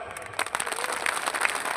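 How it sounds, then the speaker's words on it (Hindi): Crowd applause at a night-time jagran for Karni Mata temple in Motigarh, Barmer, a steady wash of many hands clapping across the short stretch with no clear voice on top. "तालियां बजा बताओ"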